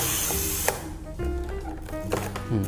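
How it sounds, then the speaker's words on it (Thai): Shutter of a Fed-3 film camera being cocked, a run of small mechanical winding clicks and ratcheting ticks, close up and fairly quiet. "ขึ้นชัตเตอร์ครั้งที่ 2"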